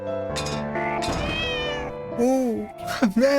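A cat meows repeatedly in the video game The Cat Lady, several drawn-out, wavering meows close and loud over a continuous game backdrop, with a rising, pleading tone toward the end.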